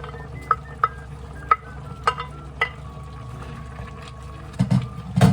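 A metal utensil stirs a pot of food with carrots, giving a series of sharp, close clinks against the pot over a steady low background, with heavier scraping near the end.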